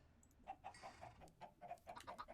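Chickens in the Minecraft video game make quick, soft clucks in a light, uneven string. The sound is close but faint, and there is no talk.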